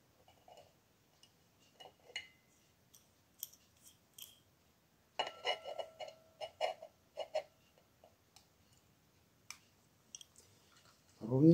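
A clock mechanism is fastened with a key onto a porcelain plate, giving sparse small metallic clicks and ticks, then a denser cluster of close scraping clicks near the middle and a brief louder rustle at the end.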